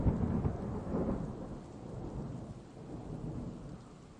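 A thunderstorm from the video game Cooking Companions: a deep, rolling thunder rumble over steady rain, loudest at the start and then settling into a quieter, continuous wash with no voices.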